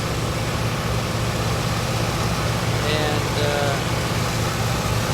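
Vought F4U Corsair radial engine in cruise flight, a dense continuous drone heard from the cockpit, loud and steady, with a brief spoken word under it.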